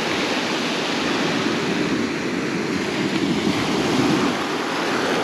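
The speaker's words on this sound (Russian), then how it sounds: "Море в целом спокойное." Calm sea waves wash onto the shore at Lazarevskoye near Sochi under an overcast sky, a constant broad roar of surf mixed with wind noise on the microphone, with no voices.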